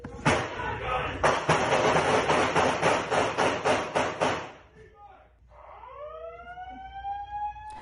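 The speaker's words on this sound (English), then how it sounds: "that was the hospital's internal siren that you hear there" A hospital's internal alarm siren winds up with rising, wailing tones after several seconds of loud, rapid gunshot bursts and commotion during a police shooting, with shouting voices in the mix.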